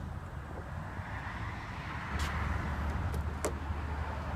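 Power trunk lid on a 2014/2015 BMW X6 xDrive35i closing at the push of a button: a steady low motor hum with a few short clicks and a soft latch thud toward the end, close by.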